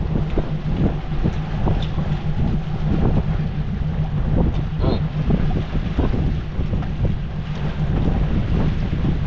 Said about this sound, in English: The wind is blowing out of the south really hard.